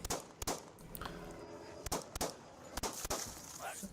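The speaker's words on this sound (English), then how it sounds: "Gets out and immediately met by gunfire." Police bodycam gunfire: several sharp, loud cracks arrive in irregular bursts, some close together, over a busy background noise.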